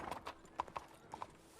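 Horse hooves clip-clopping in a story-mode video game, a quick run of crisp paired hoof strikes at an uneven trot rhythm, fairly close and distinct with nothing else over them.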